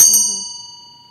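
A small sound-therapy bell is struck once, ringing near and clear with a bright, sustained chime that slowly fades away, heard alone.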